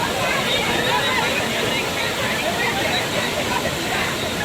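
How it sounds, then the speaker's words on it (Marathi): Chinchoti waterfall near Mumbai roars close by as a dense, constant rush of falling water, loud and unbroken throughout, with voices underneath. "ओमकार, पाणी पुढे येतो"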